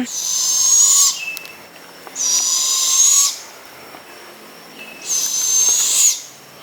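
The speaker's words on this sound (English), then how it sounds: "we saw what I believe is a screeching owl" Three loud, harsh screeching calls from a nearby screech owl at a Florida campsite in Juniper Springs, each lasting about a second, separated by short pauses.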